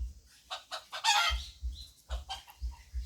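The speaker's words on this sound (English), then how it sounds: "I think that's one of the roosters there. Going off about something." Rooster crowing at a backyard farm, a few loud bursts spread across a short stretch with low rumbling noise between them and no talk.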